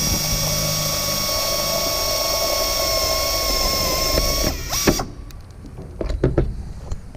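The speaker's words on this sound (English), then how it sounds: "So now those 2 rivets are drilled out." A drill bores out rivets in aircraft sheet metal, a steady loud whine holding for about four and a half seconds before cutting off, followed by a few sharp clicks and clatters of handling close by.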